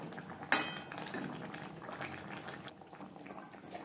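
A potato and cauliflower curry is stirred in a pan, with a sharp clink of utensil on metal near the start followed by steady bubbling and scraping that stays close and moderately loud throughout, no voices.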